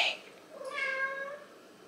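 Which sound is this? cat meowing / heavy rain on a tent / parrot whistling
cat meowing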